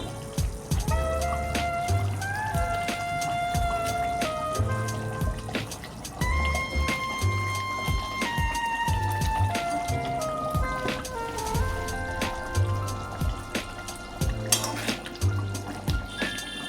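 Fish curry (aar macher kaliya) simmering in a pot, soft bubbling and liquid sounds, under steady kitchen noise with clinks and light tonal background sounds throughout.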